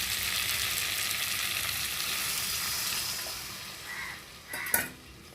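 Potato and fish curry being stirred in a pot with water just added, giving a soft, steady simmering wash with a few brief utensil scrapes and clinks near the end.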